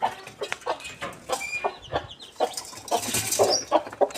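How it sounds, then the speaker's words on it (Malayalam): A mother hen clucks steadily while newly hatched chicks peep in shrill, overlapping cheeps close by, a busy chorus of backyard poultry in their coop with no talking. "കോഴിക്കുഞ്ഞാണ്, കോഴിക്കുഞ്ഞ് അമ്മയാണ് ഇതൊക്കെ."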